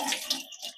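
Water trickling and gurgling down a slow-draining, clogged kitchen sink, with a few soft splashy bursts, close and fairly quiet, no voices.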